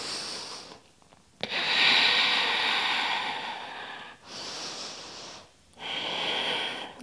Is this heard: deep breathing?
yes